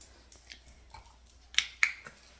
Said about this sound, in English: you can also use a clicker